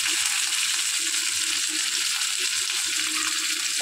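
Raw prawns fry in hot oil with a steady, dense sizzle that stays loud and even throughout, with no voices over it.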